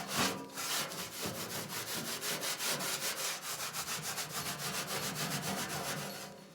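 Surface rust is scrubbed off a discarded metal garden bucket in quick, regular back-and-forth abrasive strokes, a close, steady rasping rhythm heard alone and fairly quiet.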